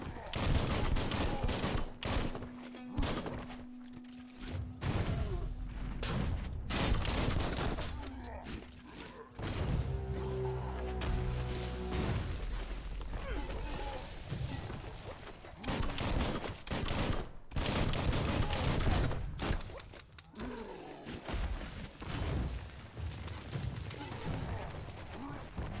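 Dense bursts of gunfire in the video game Biomutant, rapid volleys and shots layered with game music and effects, loud and continuous with brief gaps; a voice is heard in places.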